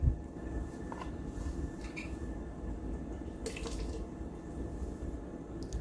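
Water trickles and splashes steadily into a grinder for idli and dosa batter, with a few faint clinks, a quiet continuous flow with no voices.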